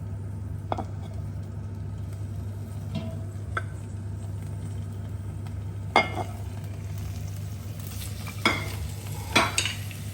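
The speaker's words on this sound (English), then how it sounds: "now I'm going to put my vegetables in there" Carrots, onions and celery frying in a hot pot, a steady low sizzle under a constant low hum, with a few sharper scraping stirs scattered across the clip.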